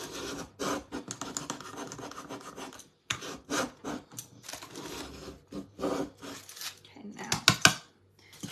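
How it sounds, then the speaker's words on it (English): A paint scraper rasps back and forth over paint on a wooden Santa hat craft, close and faint, in short irregular scratchy strokes with brief pauses between them. "Now we're going to scrape this back on here."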